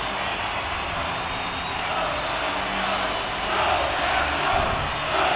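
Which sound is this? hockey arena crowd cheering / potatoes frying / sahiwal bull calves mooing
hockey arena crowd cheering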